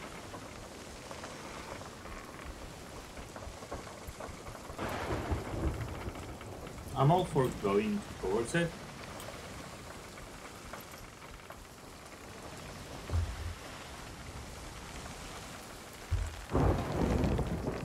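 Steady rain drums and thunder rumbles through a storm at sea in the pirate game Sea of Thieves, with deep thunderclaps rolling in several times while players talk over it.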